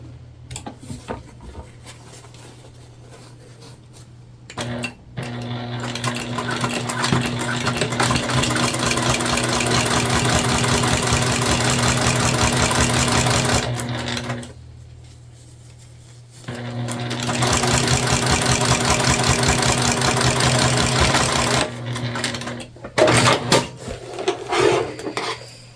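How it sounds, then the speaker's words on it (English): A sewing machine top stitching a Wanderlust sling bag, running in two long steady whirring stretches of about nine and six seconds, with quiet handling noises before, between and after the runs. "And we'll top stitch."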